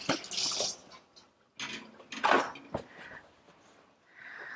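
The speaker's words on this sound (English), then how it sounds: "I'm gonna rinse a little avocado off my hands." Hands rinsed of avocado under a running kitchen tap: short, close bursts of splashing water, with a gap in the middle and a softer trickle at the end.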